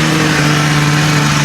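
An old, long-idle $80 snowmobile engine sits idling, a loud, close, steady mechanical drone with a constant hum and no speech over it.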